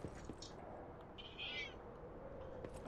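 Faint, slightly rough meow from an old, cranky cat named Sassy in the Lies of P game, a single drawn-out call over a quiet, low ambient background.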